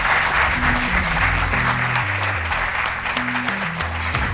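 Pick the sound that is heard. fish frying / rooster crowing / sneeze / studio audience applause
studio audience applause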